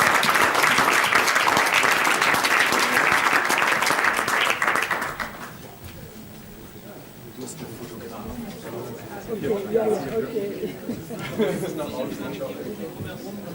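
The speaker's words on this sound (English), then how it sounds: "Let's clap hands" An audience claps at an anniversary gathering, a loud burst of applause that fades after a few seconds into murmuring chatter and scattered voices talking in the room.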